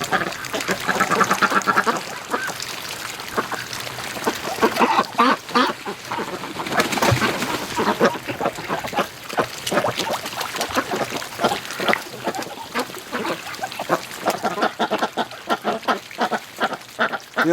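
A flock of very muddy breeding ducks quacks continuously in a farmyard, loud and close, with overlapping calls and splashy activity throughout.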